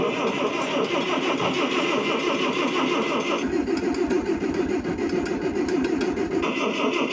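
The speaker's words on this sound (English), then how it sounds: "It started spinning real fast like it was gonna fire." A 1957 Farmall tractor engine cranks over steadily and fast, a loud continuous churning with a rhythmic chug that shifts in pitch partway through, without catching.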